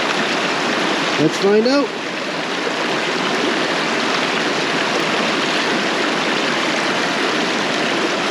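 Water rushes fast and steadily through the sluice of a 4-inch gravity gold dredge. The close, broadband flow runs for the whole clip while someone speaks briefly near the start.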